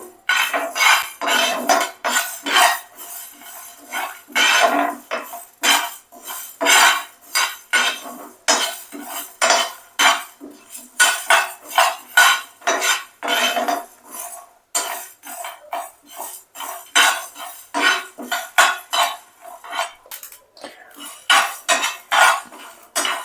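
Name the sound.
chicken frying and stirring in a pan on low flame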